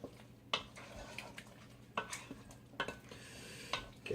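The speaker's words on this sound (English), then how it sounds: "then you just take your wooden spoon, give it a little stir" A wooden spoon stirs Fra Diavolo sauce in a pot, making a faint, quiet bed of gentle simmering broken by a few soft knocks and scrapes against the pot at irregular intervals.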